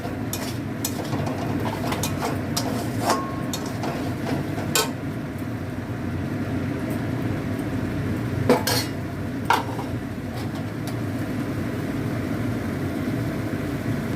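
Spoon stirring ghee and garam masala into a pot of pointed gourd cooked in milk, with scattered metallic clinks and scrapes over a steady low stove rumble and no talk.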